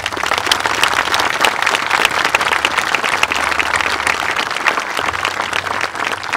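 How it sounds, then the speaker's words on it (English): Crowd at a veterans monument ceremony giving a round of applause for veterans, a dense, even clapping from many hands lasting several seconds, with a low hum underneath. "let's give a round of applause to everybody"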